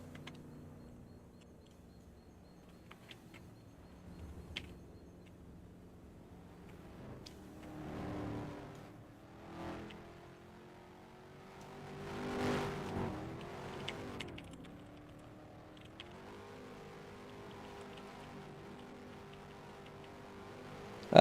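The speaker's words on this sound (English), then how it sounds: "please stop doing burnout, Speedy" Race car engine in a sports car racing video game, revving and swelling in a few loud surges of a burnout over a steady low idle hum, no talking.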